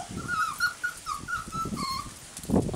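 High, thin whimpers from 10-week-old miniature pocket beagle puppies repeat in a run of short whining cries, close to the mic, with faint rustling and shuffling underneath.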